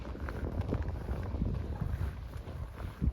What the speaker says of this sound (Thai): ลมพัดเย็นเสียเสียดี